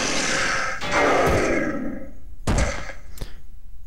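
A boss enemy explodes in Zelda: Twilight Princess: a heavy crashing burst that swells and decays, followed by two sharp thuds, loud and close with no talking.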